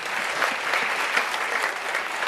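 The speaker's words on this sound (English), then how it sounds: "Yeah, round of applause for everyone." A large indoor cruise-ship audience at a Royal Caribbean Crown and Anchor Society members' meeting aboard Liberty of the Seas breaks into sustained, dense applause, with continuous clapping at a steady level throughout.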